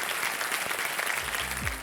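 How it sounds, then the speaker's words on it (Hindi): Studio audience applause on a televised Hindi quiz show welcoming a contestant, a dense steady patter of many hands filling the room, with a low tonal sting rising near the end. "एक बार फिर आपका बहुत बहुत स्वागत करते हैं तालियों के साथ हमारे कार्यक्रम में"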